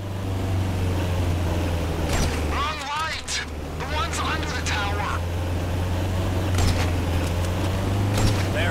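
A steady low vehicle engine hum in Grand Theft Auto V drones throughout, with talk and brief bursts of other game sounds over it.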